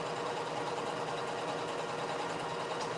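A sewing machine runs a straight stitch without backstitching, giving a steady, even mechanical whir with a faint rhythmic hum and no pauses.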